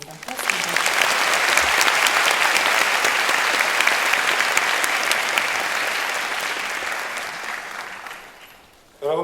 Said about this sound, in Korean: 여러분의 뜨거운 박수로 강연을 청하겠습니다